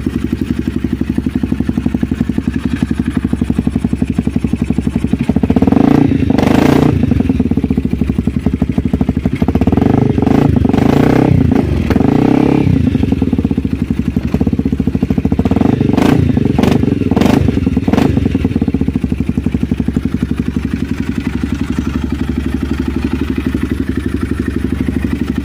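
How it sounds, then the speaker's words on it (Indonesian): A Honda CBR 250 supermoto fitted with a Radama Racing exhaust idles loudly nearby with a steady thumping beat, with several sharp throttle blips and revs in between. "Nah, inilah suara dari motornya."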